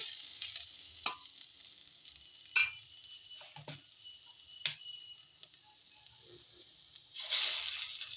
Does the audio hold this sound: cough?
no